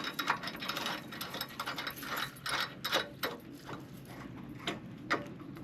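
A ratchet clicks in quick, uneven bursts, close and clear, while nuts with lock washers are tightened onto the hitch mount of a heavy-duty e-bike rack on a Jeep Wrangler.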